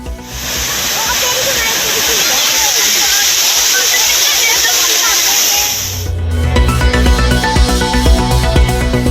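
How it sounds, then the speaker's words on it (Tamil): Courtallam's main waterfall roars in flood with a loud, dense, continuous rush of crashing water for about six seconds before music takes over. "குற்றால அருவிகளில் ஆர்ப்பரித்து கொட்டும் வெள்ளம்"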